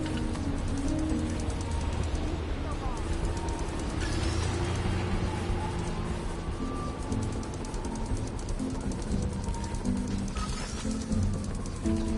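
Pigeon-like cooing from a bird on a New York street in Spider-Man PS4, low soft coos repeating over a steady bed of city traffic rumble and game ambience.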